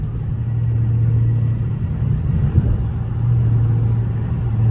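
A tuned Dodge Charger SRT 392 rumbles along a bumpy highway, heard from inside as a steady, loud low engine drone with road noise and a small jolt midway.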